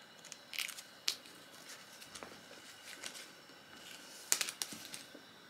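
Scissors snip a tag off the shoulder strap of a Marc Jacobs mini leather tote bag, a few faint sharp clicks and snips scattered irregularly in a quiet room, close by and without talk.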